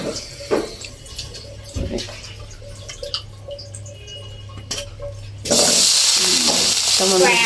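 Garlic frying in oil in a wok, a quiet crackle at first with small clatters, then a loud, steady sizzle that bursts in partway through and fills the rest.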